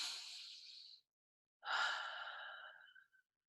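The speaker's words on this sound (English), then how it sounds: "Let's breathe in." A person takes a slow, deep breath, heard as two long, soft airy rushes close to the microphone with a short silent gap between them, in an otherwise quiet room.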